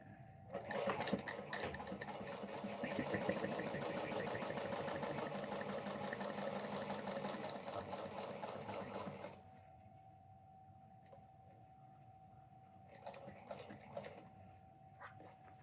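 A sewing machine re-stitches a wonky seam on a crossbody bag, running in a steady, loud mechanical whir for about nine seconds, then stopping. A short quieter burst of stitching follows near the end.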